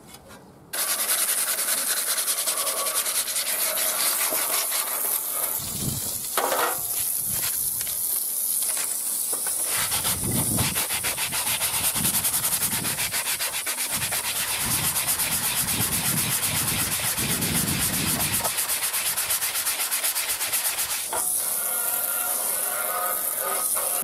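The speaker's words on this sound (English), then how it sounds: "Let's get the sandpaper on it," Sandpaper scrubbing surface rust off car parts, a steady loud rasping rub that runs continuously for over twenty seconds with slight shifts in texture and no talking.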